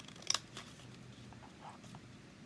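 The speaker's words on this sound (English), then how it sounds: "we're just trimming these little slits all the way" Scissors snipping small slits into a paper palm branch, one quick pair of sharp close cuts followed by faint paper rustling, quiet and brief.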